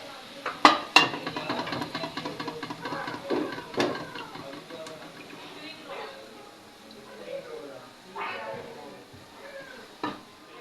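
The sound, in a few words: removing fried golden chicken spring rolls from pan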